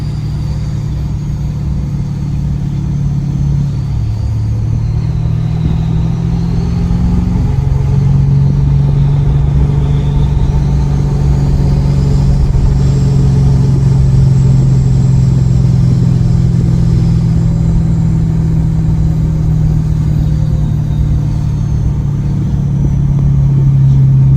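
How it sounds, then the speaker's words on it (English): A 2018 Ford F350 diesel pickup with compound turbos and 4.30 gears, held back on the exhaust brake with no brakes applied: a loud, steady low drone and rumble that shifts pitch a few times as it slows. "with this 430 gears, this thing holds back really hard with the exhaust brake"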